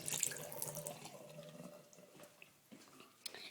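Shower water running in a house bathroom, a soft steady hiss and trickle of flowing water, faint and close, with a few small clicks and drips.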